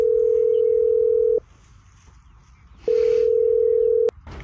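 Phone ringback tone on a repeated call, two long steady beeps with a silent gap between them, loud and close, followed by the start of a third.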